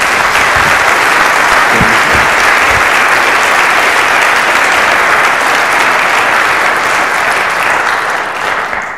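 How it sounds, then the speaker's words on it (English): A lecture-hall audience applauds steadily and loudly for about nine seconds as a guest comes up, dense clapping with a few brief voices underneath. "Feel free to applaud for him"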